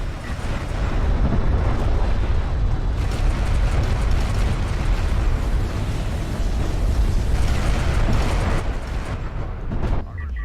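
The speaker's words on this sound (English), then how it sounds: "Triple barrage getting used here just to take these guys out." Artillery explosions from a triple barrage in a real-time strategy game roll on as a dense, continuous series of heavy booms and rumbles for about ten seconds, loud and layered.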